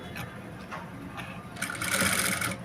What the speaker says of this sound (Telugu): ఇలా మామూలు మనం మనం స్టిచ్చింగ్ చేసైనా పైపింగ్ వేయచ్చు ఇది వచ్చేసి ఆల్రెడీ రెడీ చేసి పెట్టుకున్న పైపింగ్ వేస్తున్నాను